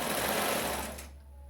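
A sewing machine stitches a skirt at high speed, a loud close whirring run that cuts off abruptly after about a second, leaving a faint hum.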